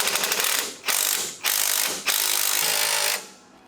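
A spring compressor on the front coil spring of a 2018 Dodge Ram 1500 is wound down to release its pressure. It gives loud, close bursts of rapid mechanical ratcheting in four runs with short pauses between them.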